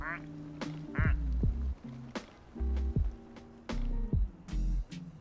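A plastic duck in Placid Plastic Duck Simulator gives several squawking quacks with guitar-like tones, loud and close, spaced irregularly alongside game sounds.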